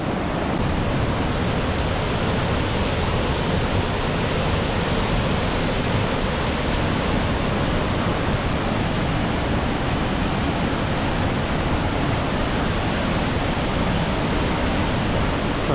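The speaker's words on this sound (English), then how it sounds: "3 waterfalls in one shot." Wahclella Falls in the Columbia River Gorge pours in a continuous, dense roar of falling water, loud and unvarying, with no voices over it.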